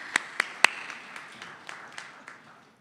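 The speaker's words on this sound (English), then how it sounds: "We can clap for these people" A few sharp, separate hand claps from an audience at a spring celebration event, three distinct near claps followed by sparser, fainter ones trailing off into quiet.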